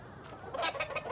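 Chickens and roosters cluck in short, close bursts inside a cockfighting coop, the calls rising briefly and then trailing off, with no talk.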